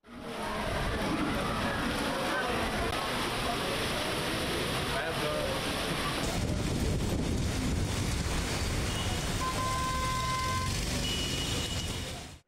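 Steady rain and gusty wind in Vijayawada, a dense continuous roar of rainfall and wind buffeting throughout, with a voice speaking over it.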